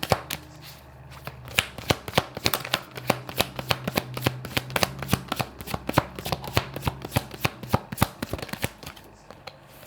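Tarot cards being shuffled, a close, continuous run of crisp riffling flicks and taps in an irregular rhythm, with no talking.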